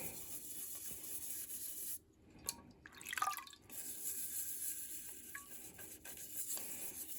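Wet scrubbing and brushing sounds with light splashing of water as a toothbrush scrubs a Fluke 77III multimeter circuit board in warm water, a steady close-up swishing that pauses briefly partway through.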